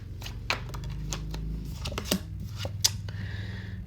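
Tarot cards being shuffled by hand, a run of crisp riffling snaps and papery flicks at close range, repeating irregularly over a low background hum.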